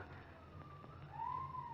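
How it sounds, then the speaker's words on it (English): A police siren in an old radio drama wails faintly in the distance, a rising tone that swells louder toward the end over quiet background, with no talk. "Police siren."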